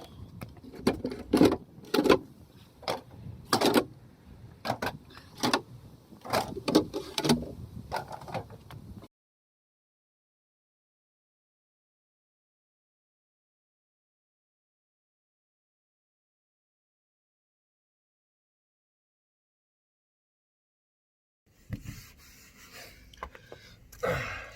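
Rough sandpaper scrubs varnish off a wooden bedside locker in quick rasping strokes, close and uneven, then a long silence before the scraping resumes faintly.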